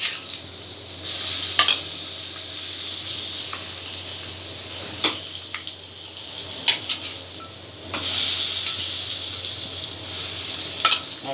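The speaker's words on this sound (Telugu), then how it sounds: "ఇప్పుడు పోపు వేసుకోండి." Hot tempering poured into ridge gourd chutney after the stove is switched off, giving a loud sizzle and crackle that swells near the start and again around the eighth second, with occasional stirring clinks.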